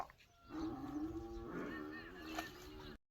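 Cows of a Gujarati Maldhari herd low nearby in a long, drawn-out moo that rises and wavers for a couple of seconds, over quiet rural background, then stops abruptly.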